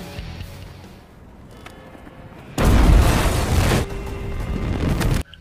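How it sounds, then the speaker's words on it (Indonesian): A large car explosion in a film erupts as a loud, deep blast that holds as a sustained roar for a couple of seconds and then settles into a rumbling tail before cutting off. "sebuah ledakan besar yang berasal dari mobilnya"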